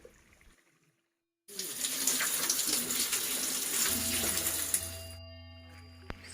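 Water gushes steadily from the Cikajayaan spring spout, a loud continuous splashing stream that starts abruptly after a brief quiet and cuts off near the end.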